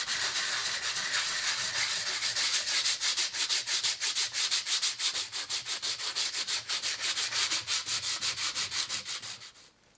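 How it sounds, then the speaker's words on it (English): Flat areas of a carbon fibre part are sanded with 120 grit paper in quick, regular back-and-forth strokes, close and rhythmic, before stopping abruptly at the end. "I can sand with 120 the flat areas"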